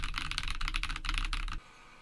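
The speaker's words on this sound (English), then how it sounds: "This is a keyboard typing sample of the Elgato Wave DX with the microphone positioned about 12 inches away from the keyboard" A mechanical keyboard with Glacier tactile switches is typed on in a quick, clattering burst of keystrokes, picked up by an Elgato Wave DX dynamic microphone about 12 inches away on a boom arm. The typing stops abruptly near the end, leaving quiet.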